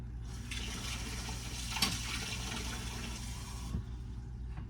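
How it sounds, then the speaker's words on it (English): Warm water trickles and splashes from a tap or jug into sourdough for English muffins, a steady watery rush running alone for about four seconds with a brief louder splash partway. "I'm gonna grab a little more warm water and add gradually"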